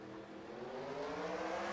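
Race car engines in NASCAR Racing 2003 roar and climb in pitch together at a green-flag restart, a dense, steady pack of simulated motors building louder over under two seconds.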